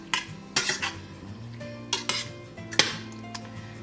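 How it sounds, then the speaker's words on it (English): A metal utensil stirs penne pasta in a pan with the heat turned off, giving a series of close clinks and scrapes against the pan in an irregular rhythm, no voices. "So I'm gonna go ahead and add in my pasta. And I'm gonna turn the heat off at this point too. And just stir that in."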